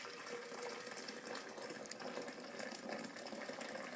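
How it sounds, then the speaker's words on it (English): Hot water pours into a blender jar for warming before making bulletproof coffee, a steady faint splashing gush that runs continuously for a few seconds, heard alone without talk. "just pour some in the blender, and that's just to get it warmed up"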